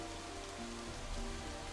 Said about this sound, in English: Large droplets of rain must be spattering on the ground.